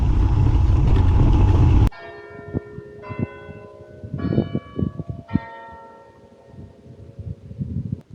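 A church bell tolling after a loud burst of noise cuts off, several distinct ringing strikes spaced a second or so apart, each decaying with a long resonant hum, alone without voices.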